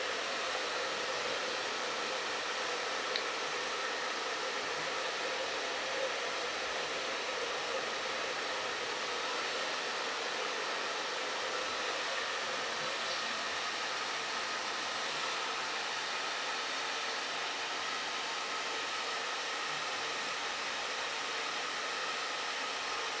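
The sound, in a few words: hair dryer blowing on curly hair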